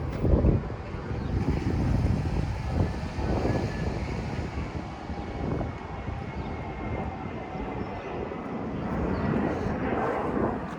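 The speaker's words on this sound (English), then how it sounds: "It's plane number 632, a new record." A low broadband roar of an airplane passing overhead in Howard Beach, Queens, rising and falling gently across the stretch, heard outdoors on a street with no talking.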